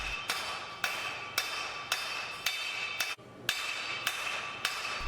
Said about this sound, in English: A steady start, making sure he's not missing the mark, followed by a consistent rhythm of large hits.